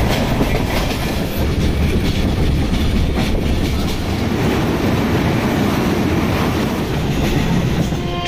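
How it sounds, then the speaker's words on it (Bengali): A train pulling out on the line through Jammu toward Banihal, a loud steady rumble with rhythmic clickety-clack of wheels on rails, heard close from on board with no talk. "ট্রেন ছেড়ে দিল, আমরা চলে যাচ্ছি আবার।"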